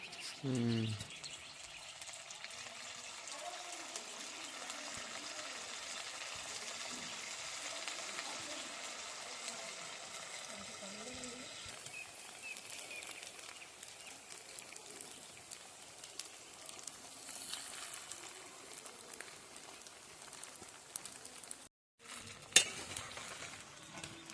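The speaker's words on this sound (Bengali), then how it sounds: "আমরা একইভাবে সব ফুলকপিগুলো ভেজে নেব।" Cauliflower frying in oil gives a faint, steady sizzle through most of the span, with occasional utensil clinks and stirring noises near a quiet kitchen setting.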